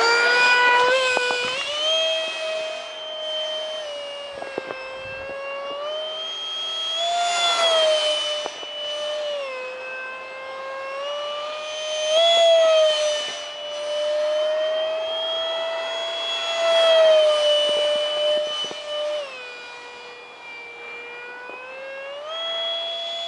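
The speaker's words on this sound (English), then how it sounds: "One nice flying jet, you guys." A 70mm electric ducted fan foam model stealth drone jet flies past, its loud, steady high-pitched whine rising and falling in pitch as it banks and changes throttle, continuous throughout with no talking.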